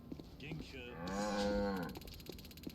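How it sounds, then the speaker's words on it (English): A single cow lets out a long, clear moo in the video game Yakuza Kiwami 3, moderately near, with faint game background sounds around it. "Gotta greet the cows."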